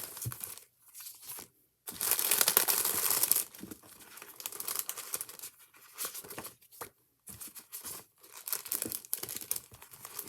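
Patterned cardstock and decorative paper pieces are handled and crinkled up close, with loud rustling bursts and sharp crumpling between short pauses, no voices.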